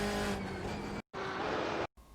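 A BMW M8 GTE race car in iRacing at Interlagos roars loudly and steadily at high revs, its engine cutting out twice for brief moments as the driver shifts.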